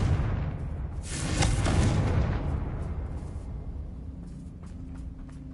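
A Confringo blasting spell explodes in the Hogwarts Legacy video game: a single heavy boom swells within the first two seconds, then fades into a long rumbling tail with a few faint crackles.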